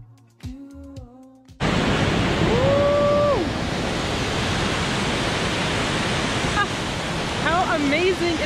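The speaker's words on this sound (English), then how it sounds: "we saw this amazing waterfall that we had to stop at" A roaring waterfall at a stop near camp, a loud steady broadband rush that starts abruptly after a brief moment of quieter sound, continuing at full strength with a few faint whistle-like calls over the top.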